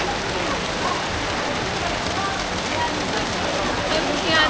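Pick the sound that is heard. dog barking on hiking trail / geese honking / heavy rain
heavy rain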